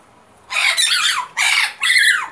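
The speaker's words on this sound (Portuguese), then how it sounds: "E aquele é o meu sabiá, que tá doido." A pet sabiá thrush in a home gives three loud, harsh, squawking calls in quick succession, close by, each a raspy burst with short gaps between and no talk over them.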